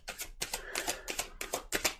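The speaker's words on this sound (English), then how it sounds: "I'll go over all these cards when I'm done shuffling" Tarot cards shuffled by hand in a series of about six crisp, riffling bursts, each a brief papery flutter separated by short pauses, close and moderately loud with no talking.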